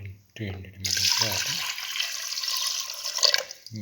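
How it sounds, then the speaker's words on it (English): About 300 ml of water pours steadily into a pressure cooker for a few seconds, a continuous splashing stream between brief bits of talk at the start and end. "Now pour in 300 ml of"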